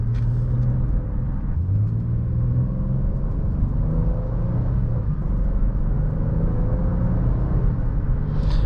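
2020 Acura MDX SUV with a 9-speed automatic, heard from inside while driving: a steady low engine and road rumble with smooth rises in pitch and a gentle drop at a gearshift, continuous and moderately loud, without talk.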